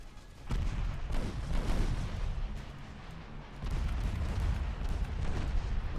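Warships launching torpedoes in the naval strategy game Ultimate Admirals: Dreadnoughts, loud booming weapon fire with dense rumbling bursts that swell and continue for several seconds.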